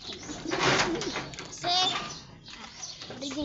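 Breeding pigeons coo in short throaty bursts near the microphone, mixed with a voice and other talk around the loft.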